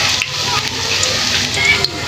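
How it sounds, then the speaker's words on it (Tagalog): Garlic sizzling in hot cooking oil while making dinuguan, a steady loud frying hiss with small crackles and brief stir knocks, under a person talking. "dahil mainit na ang ating mantika, pwede na ilagay ang bawang"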